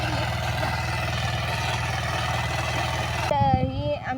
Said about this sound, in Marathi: तर मित्रांनो तुम्ही बघू शकता असे ट्रॅक्टरनी बेर करत आहे.